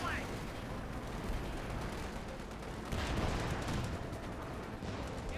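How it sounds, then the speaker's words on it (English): An artillery barrage in Company of Heroes 2 rumbles on as a dense, continuous wash of booms and gunfire, with a slightly heavier swell of impacts partway through. "He does get out, does call in some artillery"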